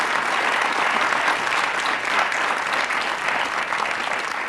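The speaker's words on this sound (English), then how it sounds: "So here you are, a round of applause of your own," A television studio audience gives a warm, sustained round of applause for Kate Ogilvie on a Countdown grand final, dense and even throughout with no speech over it.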